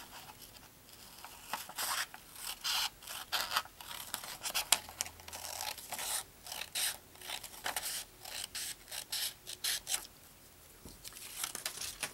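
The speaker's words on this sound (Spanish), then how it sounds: "la vamos a recortar" Scissors snipping through folded paper for a snowflake, a quick run of crisp close cuts with rustling and crinkling of the paper between snips.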